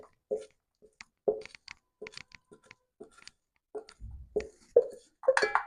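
A sticky peanut and date-palm jaggery mixture is poured into an oiled tray, heard as scattered soft plops, taps and scrapes with short pauses between them, quiet and close.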